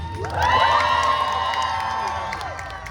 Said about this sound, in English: Actually, you can keep cheering if you'd like.